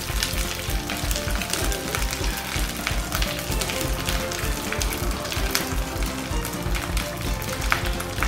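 Curry leaves crackle and sizzle in hot oil for a chutney, a dense, steady frying hiss with sharp popping spatters throughout, close and continuous.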